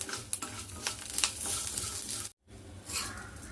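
Peanuts, urad dal and sesame seeds roast in hot oil with curry leaves in a pan, giving a steady close sizzle broken by stirring scrapes and a brief pause partway through.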